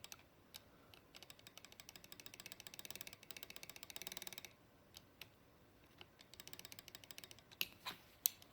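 Small clockwork gears ratchet in quick bursts of fine, regular clicks that pause and resume, with a few sharper snaps of a stop catch near the end. The sound is quiet and close, with no voices.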